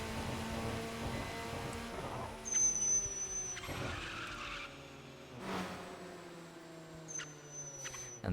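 In a racing video game, a car skids through a brake turn: repeated tire squeals and skidding sweeps over a steady engine drone, with thin high whines, fairly quiet and with no talking.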